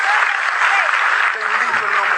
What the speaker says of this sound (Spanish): Denle ese aplauso al Rey